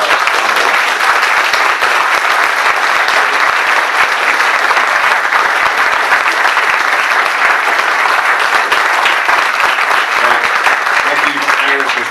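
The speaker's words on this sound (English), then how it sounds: "give a round of applause to the tremendous support that we get from our" An audience at a company's 60th anniversary celebration gives a sustained, loud round of applause, dense clapping that fills the whole stretch without pause.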